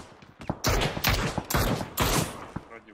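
Four loud bursts of rapid gunfire in the game Squad, evenly spaced about half a second apart, crack sharply with brief pauses between them.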